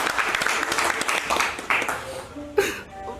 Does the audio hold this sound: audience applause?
yes